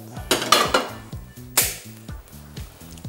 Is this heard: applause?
no